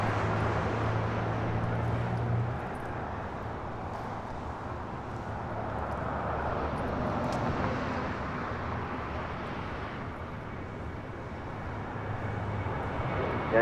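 An Aeromexico Boeing 737-800 jet taking off at LAX produces a broad, sustained engine roar at moderate distance, holding steady for over ten seconds with a faint hum beneath.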